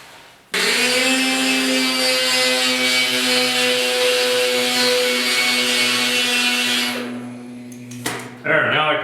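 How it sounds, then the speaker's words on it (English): A die grinder spot-grinding the box side bodywork of a 1972 Ford short box 4x4 pickup, a loud steady high whine that runs continuously for about seven seconds, then spins down with brief scraping at the end. "I just want to hit that with the die grinder"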